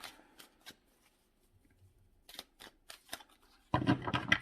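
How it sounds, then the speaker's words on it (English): A few quiet riffles and taps of a large deck of archetype cards are followed by a louder, rapid burst of shuffling at the end, close up. "It's a huge deck, and shuffling them is not at all easy at times."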